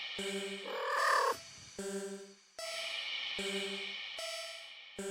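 A cat in a video game purrs and trills contentedly in short, separated bursts, each phrase a clear, bright electronic-sounding tone with brief pauses between them.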